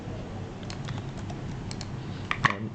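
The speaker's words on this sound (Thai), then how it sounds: "ดำเนินการพิมพ์นะครับว่า แชทถามตอบนะครับ" Typing on a computer keyboard, a quiet irregular run of close key clicks with a few sharper taps near the end.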